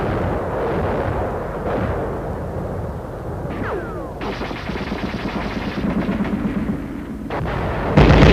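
Machine gun fire during deep-snow combat in extreme cold crackles in rapid bursts that repeat through the scene, set against a dense, rumbling background. A sharp loud report comes at the close.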